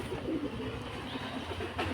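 Brief, soft cooing of pigeons, low and throaty, repeating over a couple of seconds with no talking.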